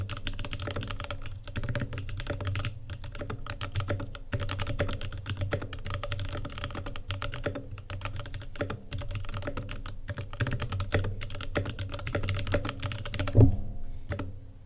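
Typing on a Cybervoyager EVA-01 Space65 keyboard with Drop Holy Panda tactile switches gives a fast, steady run of close, crisp keystrokes with a few louder spacebar-like hits, heard alone without talk.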